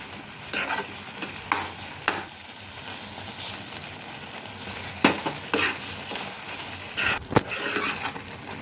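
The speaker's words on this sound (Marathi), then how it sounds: "आता मी छान हे हलवून घेतलंय." Carrot halwa being stirred with sugar in a pan, a steady close scraping and stirring over a soft sizzle, with sharper spoon knocks against the pan now and then.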